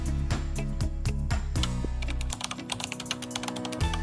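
Numbers are tapped out on a calculator in a run of quick, close plastic key clicks, with dense bursts coming at an uneven pace and no talking.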